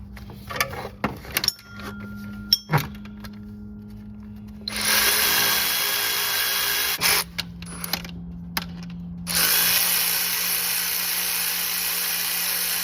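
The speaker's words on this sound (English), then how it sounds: "We're gonna go ahead and take a 14 millimeter socket and remove that now." A 14 mm socket on a power tool removes an alternator bolt on a Nissan Titan pickup. Sharp clicks and knocks come first, then two sustained bursts of loud, whirring tool noise with a brief pause between them.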